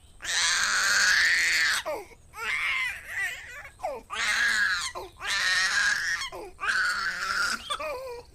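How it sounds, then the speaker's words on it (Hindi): A baby cries very loudly in repeated long wailing bursts separated by short breaths, close and intense, with no other voices. "एक बच्चे की बहुत जोर जोर से रोने की आवाज आने लगी"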